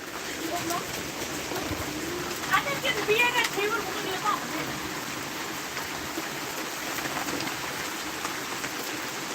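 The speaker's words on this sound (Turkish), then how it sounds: "Dolu yağmura döndü şu anda. Sel oluyor." Heavy rain, just turned from hail, pours steadily in a dense, hissing wash amid flooding, with a few faint louder patters and muffled voices in the background.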